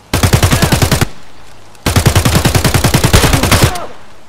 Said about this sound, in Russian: Это он стреляет, да?